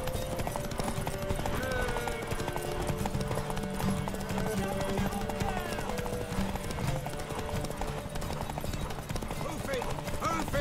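Horse hooves clip-clop at a steady gallop during a race in the video game The Witcher 3: Wild Hunt, continuous and prominent under music and occasional talking.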